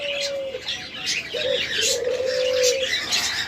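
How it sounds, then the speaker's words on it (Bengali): Large-crested sweetal doves at a bird farm coo in drawn-out, wavering low calls, three or so in a row, with lighter chirps from other birds scattered around them. "বড় ঝুটির অনেক সুইটাল ঘুঘু রয়েছে"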